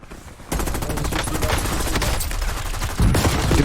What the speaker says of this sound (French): Derrière nous, ça nous allume.